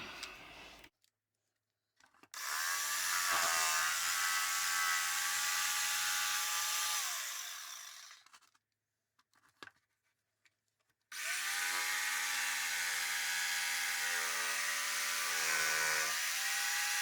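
A rotary tool cuts a door opening into a plastic model-building panel in two long, loud whining bursts, the pitch sagging as the bit bites into the plastic, with a brief quiet gap between them and no talking.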